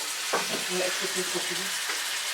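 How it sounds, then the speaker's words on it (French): Food grills quietly in a pan with a steady, even sizzle throughout, while low voices murmur faintly underneath. "On va laisser griller ça tranquillement."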